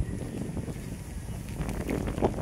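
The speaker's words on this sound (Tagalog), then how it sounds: "Ay, hangin! Pero mahangin." Wind gusting against the microphone in low, rumbling buffets, fairly close and continuous, with a few faint clicks toward the end.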